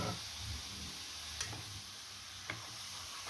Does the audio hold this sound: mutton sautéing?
yes